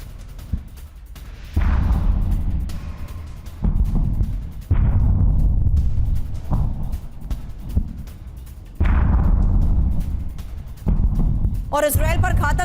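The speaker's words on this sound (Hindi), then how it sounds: "इजरायली सैन्य बेस में धमाके की ये तस्वीर।" Series of heavy, booming blasts from suicide drones striking an Israeli military base, with long rumbling decays, repeating every few seconds, loud and distant-sounding, ending with a brief high whistling tone.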